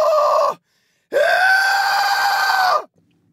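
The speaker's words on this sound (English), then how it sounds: "the more you combine both of these, the closer you get to the Aaskereia howling" Black metal howling vocals in the Aaskereia style: a short sustained harsh howl, a pause, then a longer strained wailing scream held for nearly two seconds, loud and close with no other sound.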